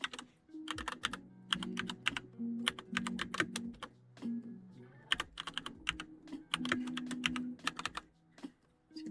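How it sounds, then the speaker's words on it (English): Someone types on a computer keyboard nearby in quick irregular runs of crisp clicks with brief pauses. A low hum and soft tonal sounds sit underneath throughout the nine seconds. "See if my fingers did the correct typing."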